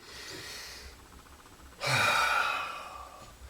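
A person draws a breath in, then lets out a loud, airy exhale like a sigh that starts sharply and tapers off gradually, close to the microphone and without speech.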